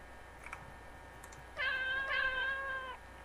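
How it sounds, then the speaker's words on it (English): A cat meow coming from a gravestone in the video game Alice Mare: after faint clicks, two drawn-out, clear meows follow closely, moderately loud over quiet background. "This gravestone just said meow to me."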